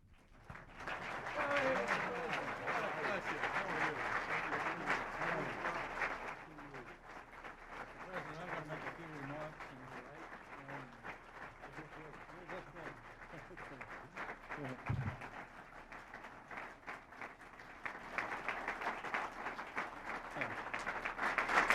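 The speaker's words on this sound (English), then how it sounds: "I think that there's kind of a lot of clapping here" An audience applauds as the President of the United States is introduced. The steady clapping swells and fades, with a voice speaking over parts of it.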